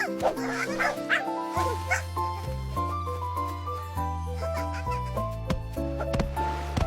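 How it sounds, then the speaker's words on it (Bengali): A puppy's short, high yipping barks repeat over steady melodic background music. "আমার নাম পাপি, বাংলা অর্থ হচ্ছে কুকুরছানা।"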